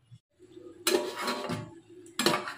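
A lid goes onto a cooking pot with two distinct metallic clanks, the first ringing briefly and a second sharper one following, both near and clear.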